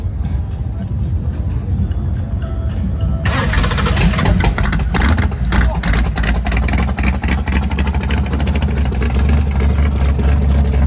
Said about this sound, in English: Start her up. Hit the starter